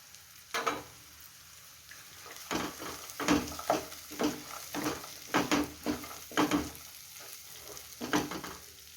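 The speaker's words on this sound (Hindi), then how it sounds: "अब मैं चने डाल देती हूँ।" Chickpeas hit a pan of sizzling tomato masala, giving a steady fry with repeated bursts of crackle and stirring scrapes through the clip, close and moderately loud.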